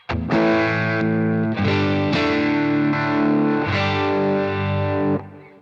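Electric guitar chords through a vibe effect pedal, with a wavering, swirling modulation, several strums ringing out in a steady, full-bodied stream with no talking.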